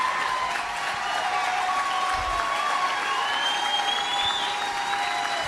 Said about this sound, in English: Roaring applause.